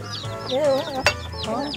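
A local ethnic-breed chicken gives a few close, loud clucks beside a house where a family sleeps, with a short sharp knock midway.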